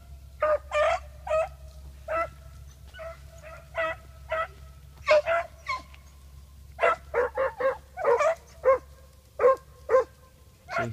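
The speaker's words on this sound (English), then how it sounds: "He'll go right to the barking." Hunting hounds from a kennel bark repeatedly in one spot, in irregular bursts of single and doubled yelps over a low steady background hum, moderately distant.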